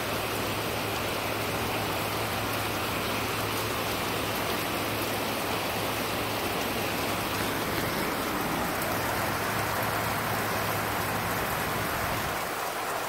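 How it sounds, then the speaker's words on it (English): Heavy thunderstorm rain pours hard and steadily, a dense, loud, unbroken hiss of drops pelting surfaces nearby, with no pauses throughout. "I can feel the rain coming into my face."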